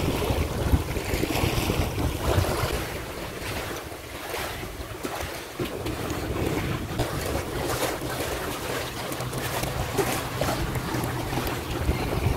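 Sea waves wash steadily onto a beach while strong wind buffets the microphone, making a continuous roar that stays loud across the whole stretch with no talking.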